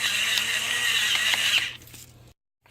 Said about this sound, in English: Another reason I love my electric pepper grinder.